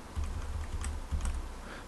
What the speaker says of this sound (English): I'm just typing over the lines again to make sure that I did it right.